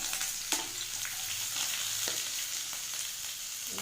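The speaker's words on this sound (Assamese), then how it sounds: "ইয়াতে গোটা জিৰা কেইটামান মই দি দিছোঁ তেলত।" Whole cumin seeds sizzle and crackle in hot oil, a steady close hiss broken by a few small pops and stirring clicks, with no talking.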